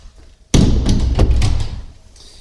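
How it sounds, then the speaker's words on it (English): A camping door, near a wood-burning stove, bangs open with a sudden loud thump, followed by a couple of rattling knocks that fade within about two seconds. "Whoops, door's open again."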